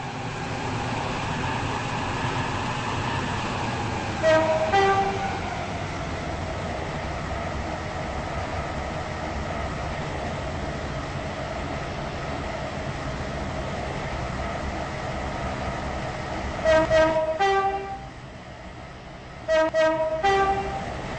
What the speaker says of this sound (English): This train is now approaching Stepford East.